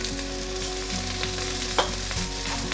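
Flipped potatoes keep frying in a pan, a dense close sizzle with a brief louder crackle and scrape partway through, no voices.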